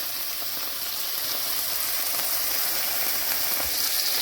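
Chicken browning in a pot over medium heat makes a steady, close sizzle, an even crackling hiss that continues without pause and gradually gets a little louder.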